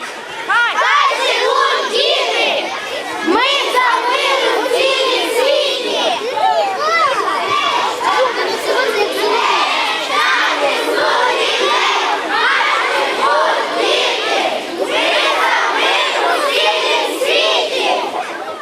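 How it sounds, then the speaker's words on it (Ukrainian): Crowd of children shouting slogans during a peace march through village streets on Children's Day, loud continuous cheering and chanting voices up close, with music underneath. "з усмішками під вигуки Хай живуть діти і ми за мир дітвора пройшлася вулицями селища під музику"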